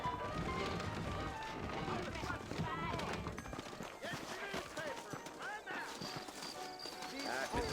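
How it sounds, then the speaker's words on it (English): Horse hooves clip-clopping at a run with an occasional whinny in Red Dead Redemption on Xbox 360, mixed under voices talking and background music. "Tengo el caballo de guerra"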